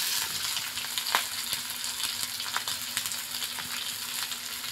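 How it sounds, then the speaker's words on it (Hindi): Onions frying in hot oil for besan kadhi, a steady close sizzle with small crackles and pops scattered through it, and no talking. "उसके बाद हम प्याज डालेंगे।"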